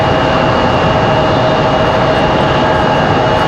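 An airliner departs from Raleigh-Durham airport with a loud, steady jet engine roar held throughout at moderate distance, no voices over it.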